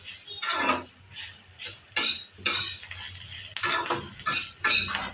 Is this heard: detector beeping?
no